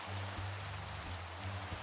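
Rain falls in Minecraft, a steady soft hiss of drops with a faint low rumble beneath, quiet and continuous.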